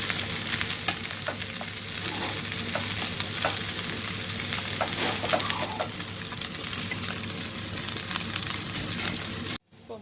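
Chicken fries in a pan for Arabic majboos, spiced with cardamom powder, giving a dense, continuous sizzle with occasional stirring scrapes, close and steady, ending in a brief cutoff.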